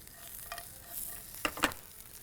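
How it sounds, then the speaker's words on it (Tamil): Spices with chili, coriander and turmeric powder sauté in a pan, a soft steady sizzle with light stirring scrapes and a couple of sharper sputters near the end, quiet and close, no talking. "இதை வந்து நம்ம ஒரு வதக்கிறோம்"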